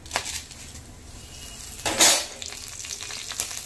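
Whole garam masala, cracked cardamom, cumin and panch phoron frying in hot oil: a steady soft sizzle with a sharp burst of crackling and spattering partway through, plus faint stirring scrapes.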